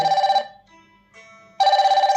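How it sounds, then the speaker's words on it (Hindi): Incoming call ringing from a Fire-Boltt Ring 2 Bluetooth calling watch and its paired phone: a bright, warbling ringtone plays, pauses briefly, then resumes, close and fairly loud with no talking. "तो आप देख पा रहे हो रिंग बज रही है फोन में भी और इसमें भी।"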